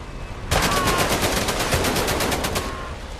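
Rapid machine gun fire in the VR game Medal of Honor: Above and Beyond, a steady burst of evenly spaced shots starting abruptly and running about two seconds before trailing off, loud and alone.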